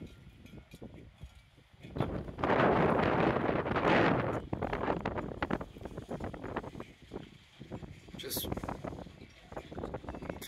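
Gusty wind blows over the microphone at a cold seaside spot by the Black Sea near Istanbul, swelling into a strong roaring buffet in the middle before settling to a rougher, fluttering rush.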